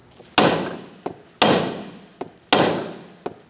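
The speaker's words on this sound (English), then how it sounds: "you're going to just put the nuts on the bolts and you're going to give them a good whack" Three loud, sharp hammer whacks ring out at even intervals, each followed by a fast decay and a smaller rebound tap, as nuts threaded onto steering knuckle bolts are struck on a 2012-2020 Chevrolet Sonic.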